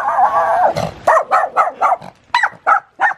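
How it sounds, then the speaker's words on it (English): A small dog barks in a backyard with a pond and waterfall: one sustained whiny yelp, then a quick string of about eight loud, sharp barks close by. "The littlest dog with the loudest bark."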